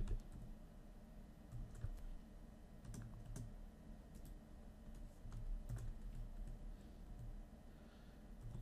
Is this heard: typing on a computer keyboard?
yes